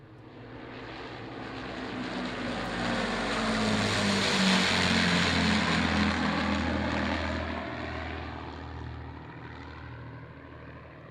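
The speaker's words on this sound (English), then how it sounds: "I'll let you see and hear some of these great sounds that are coming up, especially the Lancaster." Droning propeller engines of an Avro Lancaster bomber swell as it approaches, peak loudly overhead, then gradually fade into the distance, with no voices.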